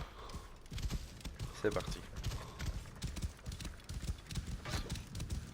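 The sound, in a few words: horse galloping when called in Assassin's Creed Origins video game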